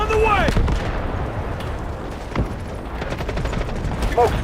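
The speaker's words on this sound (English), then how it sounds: "Grenade on the way!" Grenade explosion and combat in the shooter video game Delta Force, heavy blasts and gunfire with rumbling low thuds, a sharp hit near the middle and mechanical clicks throughout.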